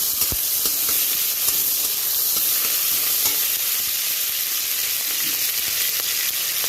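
Spices sizzle and fry in a pan with boiled cabbage and potato for a vegetarian cabbage dish, a steady loud hiss with faint stirring scrapes throughout.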